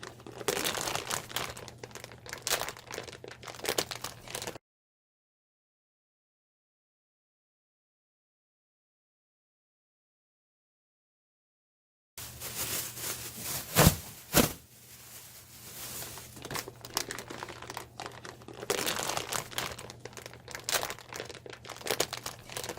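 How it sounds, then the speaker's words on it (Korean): Clean plastic garbage bags for a mushroom grow kit crinkle and rustle as they are handled, in two stretches of close crumpling separated by a long silent gap. "우리는 새 봉투, 깨끗하고 신선한 비닐 쓰레기 봉투를 준비할 것입니다."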